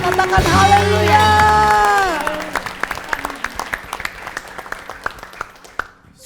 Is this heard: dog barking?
no